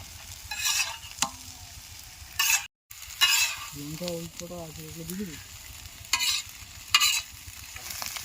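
Fried chicken pieces for chowmein sizzle and get stirred in a hot pan, with broadband crackle in short loud bursts and a faint background voice mid-way.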